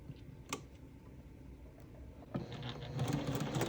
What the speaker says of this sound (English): all we're going to do is sew zoop, zoop, zoop, zoop, and we're done